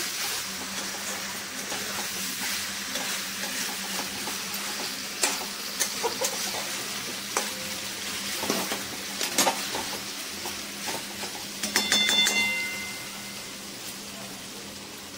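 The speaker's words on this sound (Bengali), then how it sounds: "একটু ভাজা ভাজা করে নিতে হবে।" Chicken do pyaza meat and whole spice masala frying in a pan while being stirred, giving a steady close sizzle with scattered scraping clicks and a louder burst of stirring near the end, with no talk.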